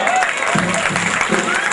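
Crowd applause at a 40th-birthday stage show, a short burst of clapping and cheering with voices mixed in.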